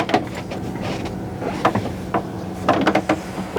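A Truma water tank drain valve on a 10-2 camper is turned by hand, giving a few soft mechanical clicks and knocks over a steady low hum, with a small cluster of taps near the end.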